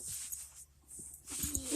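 Dogs whimper and yip in a brief scuffle of indoor play, with short squeaky cries and scrabbling noises that trail off in the middle and then pick up again.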